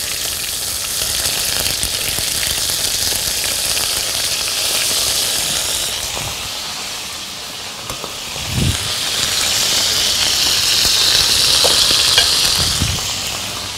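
Duck breasts frying in a pan, a loud continuous sizzle and hiss that runs throughout, with occasional soft clunks of utensils against the pan.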